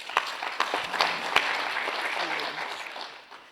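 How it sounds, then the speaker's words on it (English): An audience at an electoral commission roadshow in Limpopo gives a short round of applause for Mr. Apane and the PO, with distinct individual claps rising and then fading, and some voices mixed in. "Let's give Mr. Apane and the PO a round of applause"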